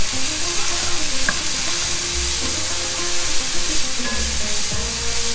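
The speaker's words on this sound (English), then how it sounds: "put our butter in there" Butter melts and sizzles in a hot pan for Salisbury steak gravy, a steady, close crackle and hiss with a few faint stirring scrapes.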